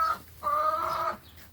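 A hen gives a short cluck, then a longer drawn-out clucking call close by, with quiet farmyard background between.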